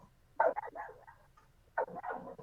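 A small puppy gives two short barks or yips, about a second apart, close and fairly clear with no talk over them.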